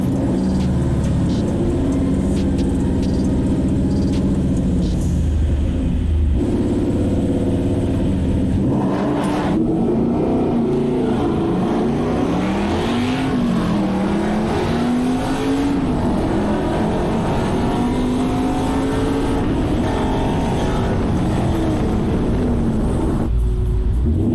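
A Ford Mustang with a swapped-in 5.0 Coyote V8 being driven hard, its engine droning loud and close throughout, pitch climbing and falling through repeated revs and gear changes.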